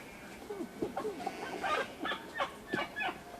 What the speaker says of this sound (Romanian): Bă, ăsta nu e cocoșul meu?